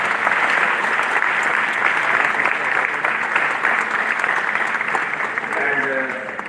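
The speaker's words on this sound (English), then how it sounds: "I request all the audience give me a big round of applause." An audience at a prize distribution ceremony claps in steady, dense applause that fills the hall and carries on without a break, fading slightly near the end.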